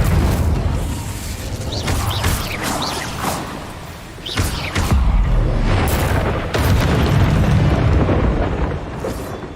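Fiery spell blasts from an Incendio cast in Hogwarts Legacy, a string of loud booming bursts and whooshes with rumbling low-end impacts layered over continuous game combat noise.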